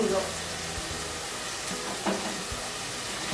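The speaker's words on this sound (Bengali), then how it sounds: "সব মশলাগুলো পেঁয়াজ পেস্টের সাথে ভালোভাবে মিশিয়ে কষে নিতে হবে" Turmeric, red chili, cumin and coriander powders fry with onion paste in a pan for a raw banana curry, giving a steady loud sizzle with a few soft stirring knocks underneath.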